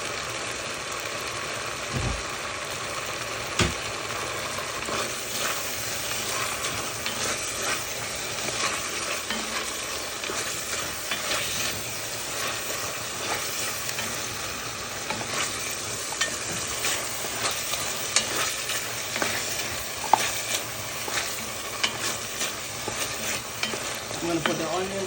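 Carrot strips being stirred and fried in a pot for Guyanese cook-up rice, with a steady sizzle and occasional scraping stir strokes throughout, no talking.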